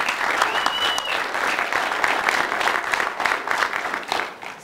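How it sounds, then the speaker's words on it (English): Audience applause at a live event in Denver, a dense, steady wash of many hands clapping close by for the full stretch, easing slightly near the end. "big round of applause, please"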